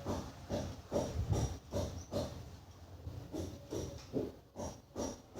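Pieces of bata fish fry in hot oil with a faint, close hiss that swells and fades in a steady pulsing rhythm.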